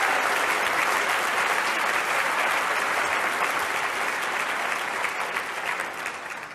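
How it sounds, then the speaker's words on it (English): Steady, dense applause from an audience honoring high school students, loud and continuous throughout, easing slightly near the end. "Can we have a round of applause for all the high school students that are in here?"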